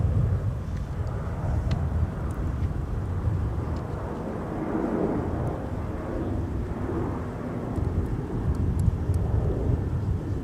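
An airplane departs Minneapolis–St. Paul Airport, a loud, steady low jet roar rumbling throughout, mixed with some wind noise.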